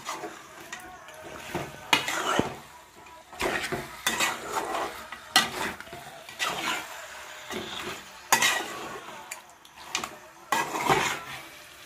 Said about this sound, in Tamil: இப்போ நல்லா மசாலா மிக்ஸ் ஆகிற மாதிரி நம்ம காடையை நல்லா மிக்ஸ் பண்ணிக்கலாம்